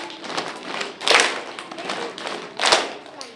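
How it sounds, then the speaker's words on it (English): A class keeps a rhythm of one clap followed by two taps, repeated as a steady pattern of sharp strikes, near and moderately loud. "We're going to clap once and tap 2 times"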